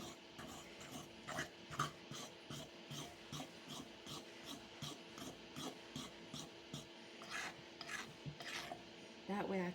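A spatula scrapes banana bread batter around a bowl in a home kitchen, with repeated rhythmic rasping strokes and occasional clinks, close but quiet.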